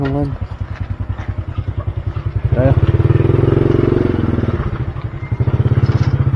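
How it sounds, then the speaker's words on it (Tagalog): Motorcycles pass close by on a very narrow road. Their engines chug and rev loudly with a rapid thumping rhythm, swelling as each bike goes by, and people talk over the noise. "May mga motor nga eh."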